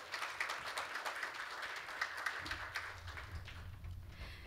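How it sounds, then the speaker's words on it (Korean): Applause rises from the crowd at a company anniversary business forum: a steady wash of many hands clapping that thins toward the end as low room noise and shuffling take over. "네, 다시 한번 박수 부탁드리겠습니다."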